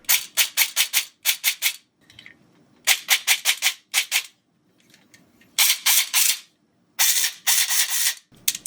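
An airsoft gun with a newly installed spiral gear gearbox test fires in sharp rapid bursts, several short volleys separated by pauses, close and crisp with faint mechanical whir between strings.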